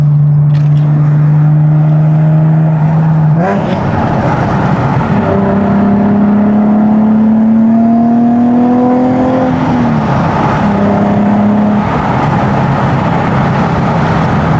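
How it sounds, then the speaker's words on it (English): A Nissan 370Z Nismo's naturally aspirated VQ V6 revs loud and close, holding a steady drone, then climbing through gears in rising pulls before easing off, with no talk over it. "The VQ engine, the NA V6, just wants to scream."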